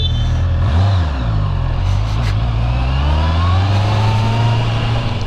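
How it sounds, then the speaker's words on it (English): A Honda CB650R motorcycle's inline-four engine revs up as the rider sets off for a commute, climbing loud and close through the gears in one steady pull. "And I'm off for the first commuting ride with the Honda CB650R."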